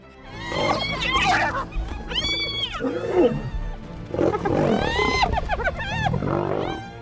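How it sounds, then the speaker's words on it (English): Hyenas and lions fighting in the wild: loud, harsh roars, growls and yelping cries come in overlapping bursts, close and aggressive throughout. "The hyenas were biting at him and making these really scary noises."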